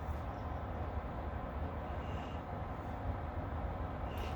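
A train rolls past across the street, a steady low rumble and clatter that fills the background continuously at moderate distance, with no talking.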